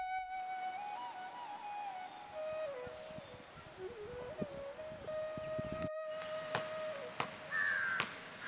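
Crows in Nepal give harsh caws among other birds, ringing out clearly and fairly close over a faint steady whistle-like tone, with no voices present.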